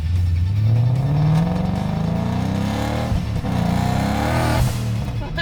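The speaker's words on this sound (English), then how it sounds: "I love the way this car sounds with this catback and the turbo kit." A 2017 Ford Mustang GT with a twin-turbo kit and catback exhaust revs up close, its deep engine note climbing steadily in pitch, then dipping and blipping again with a loud, throaty exhaust and no talking.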